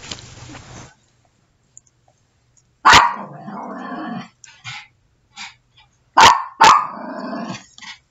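A dog barks in short sharp bursts, a single bark then a quick double bark, with growly rumbles between and quiet gaps.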